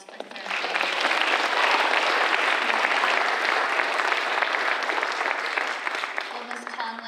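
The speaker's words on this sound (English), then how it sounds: "One more round of applause for 3rd grade." An audience at a school culminating ceremony gives a sustained round of applause, dense steady clapping from a crowd that swells in after a moment and holds for several seconds before starting to taper.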